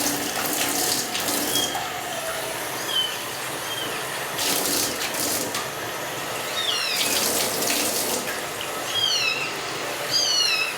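Warm water runs steadily from a sink tap while it is readied for bathing a kitten, with a few high kitten meows rising over the flow.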